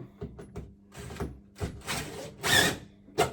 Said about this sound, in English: And take your drill. Bear in mind you're going into plasterboard, so don't drive it all the way home as it won't grip